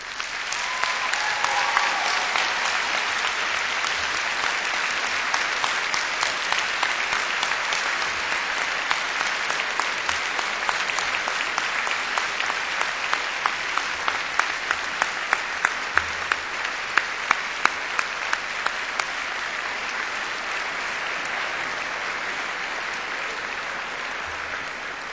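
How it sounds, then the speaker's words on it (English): Enthusiastic applause from a large audience at a Cardiff University graduation ceremony, thick and continuous for about twenty-five seconds, with a few sharper individual claps standing out near the end. "applause."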